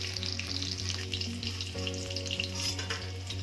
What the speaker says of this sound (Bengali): মশলাটা বাটার আগে দেখছি মাছটা ভাজা হয়ে গেছে